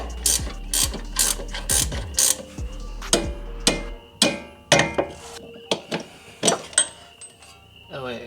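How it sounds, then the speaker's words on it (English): A socket ratchet unbolts a rear part of a Lexus LS400, giving bursts of sharp, close ratcheting clicks with short pauses and a few metallic knocks; a voice murmurs briefly near the start. "I'm just gonna go ahead and try and unbolt the back of this"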